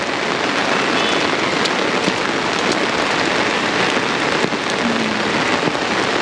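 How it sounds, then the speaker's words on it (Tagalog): Heavy, nonstop rain pours down during flooding, a steady close hiss of drops drumming on surfaces with no pauses and no voices. "Grabe ulan guys. Kanina pa actually ang ulan."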